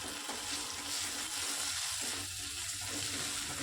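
Ginger and green chilli paste frying with onion and tomato in a pan, a close, continuous, fairly quiet sizzle and crackle with no talking.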